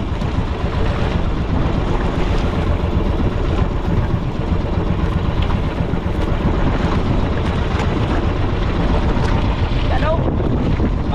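A large blue boat's engine rumbles steadily over water, with constant wind buffeting and wave wash throughout.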